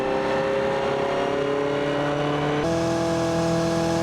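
Turbocharged Mazda MX-5 Miata running steadily on a dyno, a loud sustained engine drone holding a fairly constant pitch that shifts abruptly partway through as the tune is adjusted.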